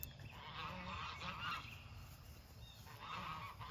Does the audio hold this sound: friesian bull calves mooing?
no